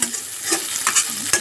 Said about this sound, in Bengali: মাছটা দিয়েও নেড়ে চেড়ে এখন কষিয়ে নেব